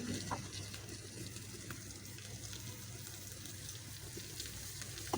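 Chops frying in a pan as the last of their water cooks off, a soft steady sizzle with faint crackles and small pops, quiet and continuous throughout.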